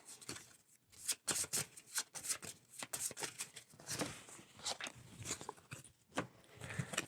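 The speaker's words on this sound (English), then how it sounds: "and give them a shuffle." Close, busy card shuffling of level 2 monster cards in a gothic horror deck-building game expansion: a steady run of papery flicks and snaps with brief pauses between bursts.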